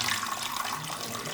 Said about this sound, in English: refill it with water.